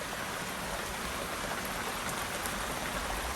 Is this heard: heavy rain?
yes